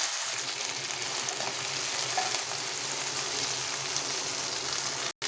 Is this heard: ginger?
yes